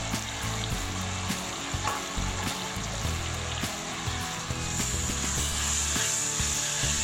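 Ingredients for Thai stir-fried holy basil with pork intestine are tossed in a hot pan, giving a steady close sizzle with repeated scraping and clacking of a utensil against the pan.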